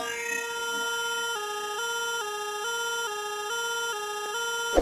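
Bright synth lead for a plugg beat, heard dry without any mixing, plays a steady stepwise melody of sustained, buzzy tones that changes pitch every half second or so, alone at an even level.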